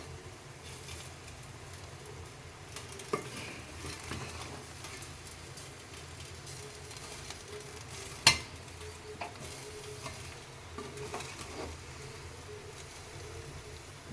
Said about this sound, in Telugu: ఒక్కసారి మనము మెల్లగా కలుపుకుందాము